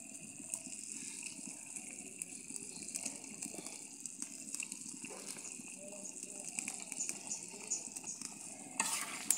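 Pabda fish going into a simmering cauliflower curry, a steady faint bubbling sizzle with soft stirring clatter running through the whole stretch and no talk.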